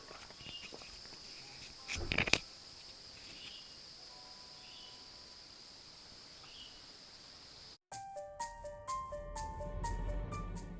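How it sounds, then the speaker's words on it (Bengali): Crickets keep up a steady, faint high-pitched trill near Brahmeshwar Shiva temple in Keonjhar. A brief burst of rustling footsteps cuts in early, and a few bird-like calls follow near the end. "এখানে একটা ঝিঝি পোকার আওয়াজ শুনুন কিরকম"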